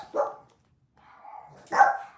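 Dogs barking in two separate bursts with a quieter stretch of growly vocalizing between them, fairly close and with no talk over them.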